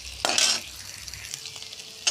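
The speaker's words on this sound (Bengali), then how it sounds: "আলু ভাজা হয়ে গেছে, এখন উঠে নেব" Potatoes frying in hot oil give a steady sizzle, with a short burst of stirring and scraping near the start, then a quieter crackle continuing alone.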